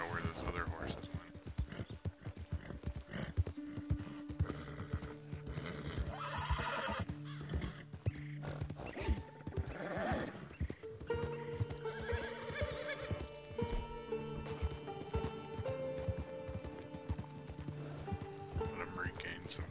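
Video game horses whinny and clip-clop along, with hoofbeats and neighs rising over layered game sound and music, while a player talks quietly over the scene.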